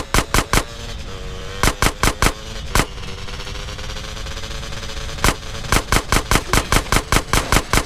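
Gunfire in the video game GTA San Andreas: rapid bursts of loud, close shots in quick volleys, then a pause with engine-like drone underneath, and more fast clusters of shots at the end.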